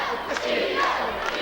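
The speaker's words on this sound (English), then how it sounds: "And you can hear the crowd." A wrestling arena crowd yells and roars in a dense, continuous wash of voices, loud and fairly close, with a few sharper shouts rising out of the din.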